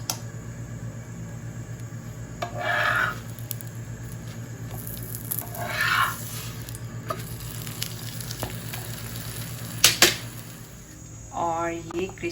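Aloo paratha frying in a pan with homemade desi ghee: a steady low sizzle and patter runs throughout, with a few louder scraping bursts and a sharp clatter near the end.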